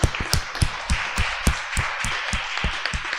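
A church congregation applauds, with a wash of many hands and louder individual claps striking close by in a loose rhythm, and no talk over it.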